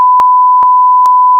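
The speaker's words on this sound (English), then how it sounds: "you can just insert beeping noises after this" Censor beeps inserted over speech: a steady, loud electronic tone running throughout, with brief clicks where the bleeps are spliced in, and no talk audible.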